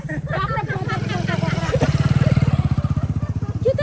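A motorcycle engine runs close by with a steady, rhythmic putter that grows more pronounced partway through, heard alongside people talking.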